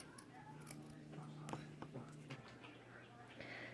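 Scissors snip through fabric just above the stitching of baby leggings, a few soft, close cuts with quiet rustling under a low hum.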